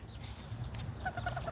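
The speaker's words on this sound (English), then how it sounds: "here's some ducks or something" Ducks on open water give a short run of quacking calls near the end, sounding close and fairly clear over steady outdoor background noise.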